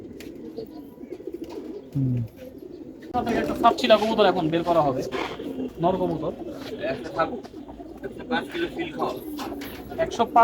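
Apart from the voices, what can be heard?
pigeons cooing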